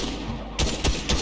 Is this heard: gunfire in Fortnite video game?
yes